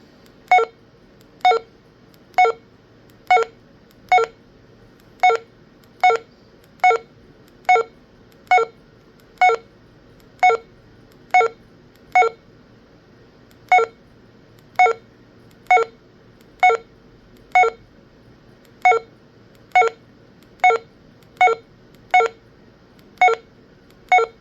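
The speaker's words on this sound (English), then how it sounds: "that beep is loud" Baofeng UV-17 handheld radio giving a long run of short, loud, evenly spaced beeps, one after another with a brief gap partway, alone and close.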